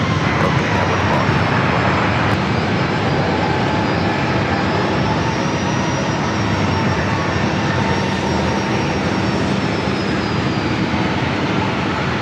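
A Boeing 737-800 jet bound for Seattle takes off at San Diego airport. Its engines roar loud and continuous, with a broad rushing blast and a high whine rising and falling as the plane passes close by.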